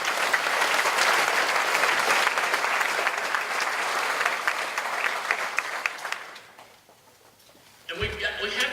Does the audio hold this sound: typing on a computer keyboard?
no